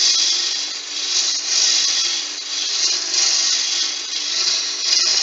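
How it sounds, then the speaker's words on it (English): Very dry wood spinning on a lathe while a roughing gouge cuts it down to round, a continuous rushing, scraping hiss that swells and eases in slow waves. "the roughing gouge really does make quick work of getting this down to round"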